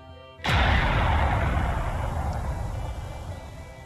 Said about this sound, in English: A sudden explosion happened in the background.